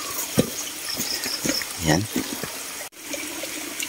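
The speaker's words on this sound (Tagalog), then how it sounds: "Kaya may tubig na naman dito sa ating dinaraanan." Rainwater from the night before trickles and splashes along a wet mountain trail, a steady close babble with scattered drips and gurgles, while someone speaks briefly over it.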